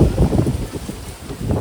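Strong storm wind gusting outdoors, roaring and buffeting the microphone in uneven surges with rumbling low noise throughout, no voices.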